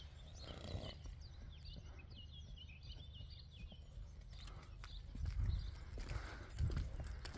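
Faint hoof clip-clops from a horse and foal moving outdoors, with birds chirping in the background and a couple of louder thuds near the end.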